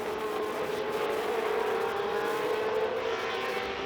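Historic 1966–1985 Formula 1 race cars roar away at the start of a race at Silverstone, a dense, steady blend of engines droning at a distance without breaks.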